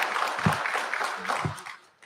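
An audience at a Ms. Wheelchair America speech night applauds a judging panel member, a dense, even wash of clapping with voices mixed in that tails off at the end.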